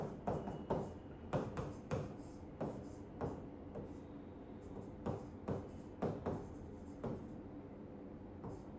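Pen strokes sketching a chemical structure of cephalosporin on paper, a quick run of crisp taps and short scratches in uneven bursts, close and soft with no talk.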